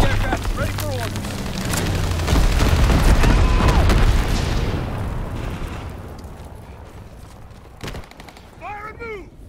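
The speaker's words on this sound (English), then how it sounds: "Low altitude bomber inbound." Bomber airstrike explosions in Call of Duty WWII team deathmatch on the Ardennes Forest map: deep rumbling blasts swell loud over a few seconds and then slowly fade, with brief game voices and sharp effects near the end.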